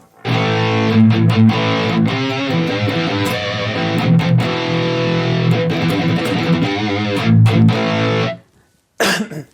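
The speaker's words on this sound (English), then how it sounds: "That is basically the distorted tone." A loud distorted electric guitar through a BOSS GT-1000 high-gain preset with EQ, noise gate and distortion, playing sustained, gritty chords and notes, cutting off abruptly near the end before a brief final burst.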